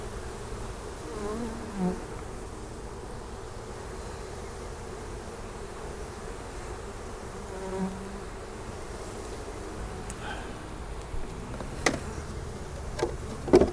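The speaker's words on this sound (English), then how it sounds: "There's a lot of bees in here." Honey bees buzzing steadily in a package being installed into a hive, a dense continuous drone from many insects close by, with a few faint clicks and taps toward the end.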